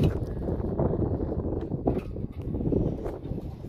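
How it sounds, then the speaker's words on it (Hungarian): Wind blowing outdoors beside a boat during window replacement work, buffeting the microphone in a continuous rough rumble with occasional gusty bursts. "Gondolom fúj a szél"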